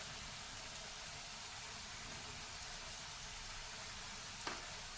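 Onions sautéing in a pan with turmeric and chili powder for dal kanda, a steady soft sizzle with a brief clink near the end.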